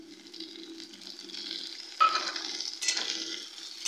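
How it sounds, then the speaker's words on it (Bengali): Tomato goes into a pan of fried onions for Bihari-style egg curry, giving a soft, steady sizzle with a brighter surge partway through and some light stirring. "পেঁয়াজটা ভাজা ভাজা হয়ে গেছে, এবার এর মধ্যে আমি টমেটোটা দিয়ে দিচ্ছি।"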